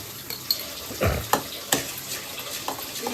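Semolina (rava) roasting in a pan while being stirred, giving a soft, scattered sizzle with a few scraping strokes of the spoon against the metal, close and fairly quiet.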